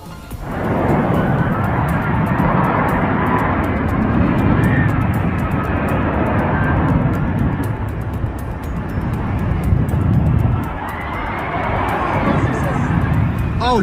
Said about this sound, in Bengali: KC-130T এবং 2CH-53E সুপার ভ্যালিকন ভারী লিফট হেলিকপ্টারের জন্য আকাশে জ্বালানি ভরা ড্রিল পরিচালনা করে